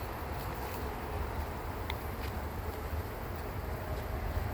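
A dense, steady hum of honeybees buzzing at a hive while they are brushed back inside, a continuous close swarm drone with no voices.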